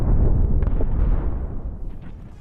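A drone strike blast in a residential area of Belgorod, Russia: one heavy, booming explosion with a deep low rumble that rolls on and slowly fades, loud and alone without talk.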